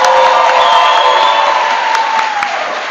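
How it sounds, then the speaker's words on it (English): A graduation ceremony crowd cheers and applauds the graduating class, a loud, dense wash of clapping with whoops that holds steady, then begins to ease off near the end. "Let's give the class of 2025 another round of applause."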